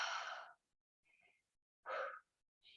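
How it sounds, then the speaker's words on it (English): Deep, heavy breathing after exercise, with two strong, close breaths separated by quiet gaps and a fainter breath at the start of a third. "You can tell my breathing's changed. So it's much deeper now. I need more oxygen."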